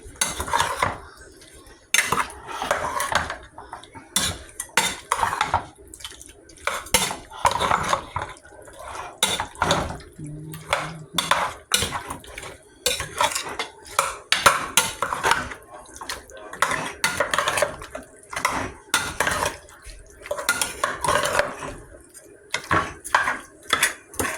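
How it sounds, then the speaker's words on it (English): A big spoon stirs pollo guisado in a metal pot, giving repeated scraping and clanking strikes in uneven bursts with brief pauses, close and fairly loud. "Get my big spoon. And now I'm mixing it."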